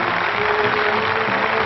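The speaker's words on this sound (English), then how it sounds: "That noise is applause," Applause from a crowd in a 1939 film scene forms a steady, dense patter of clapping, heard at moderate distance with a faint tonal hum beneath, continuous through the short span.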